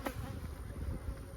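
Honey bees buzzing around an open hive during an inspection, a soft, steady low drone close by that lasts throughout, with no talk.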